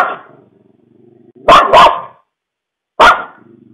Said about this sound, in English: we can hear the dog barking at something.